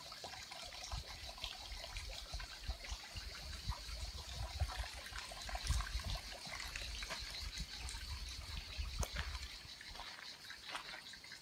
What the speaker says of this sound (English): Water still running.